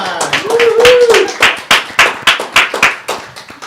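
An audience claps at a classical music concert, with brisk, close, loud applause that settles into a looser, slowing rhythm, while a voice briefly rings out over the start.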